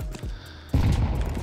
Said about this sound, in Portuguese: Ele tomou uns tiros, viu?